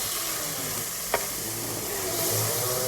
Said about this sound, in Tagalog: Lutuin muna natin tong mga ricado natin guys.